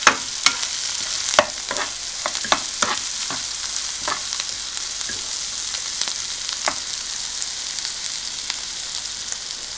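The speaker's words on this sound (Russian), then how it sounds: "Прекрасно обжарился наш язык и бекон. И мы добавляем чеснок и зелень." Beef tongue and bacon frying in a pan with garlic and herbs, a steady close sizzle dotted with sharp spatting pops and utensil clicks, loudest at the start and easing slightly, with no voices.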